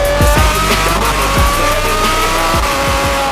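Bugatti Chiron, a bespoke hypercar, with its engine and exhaust filling the space in a loud, steady roar broken by several sharp low thumps or pops, with no talking.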